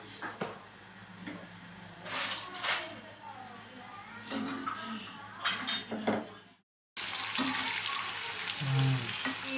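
Brinjal (eggplant) frying in oil with salt in a pan on a stove, giving a steady sizzle with occasional stirring clinks and pan scrapes, close by, under a voice talking throughout.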